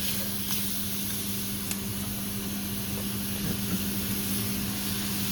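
Ingredients for West Lake beef soup are stir-fried in a wok over high heat, giving a continuous loud sizzle and hiss with a faint steady hum underneath and no talking.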